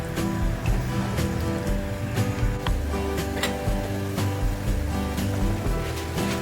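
Dal boiling in a pot makes a continuous watery bubbling and churning, steady and close, with small pops throughout and no talk.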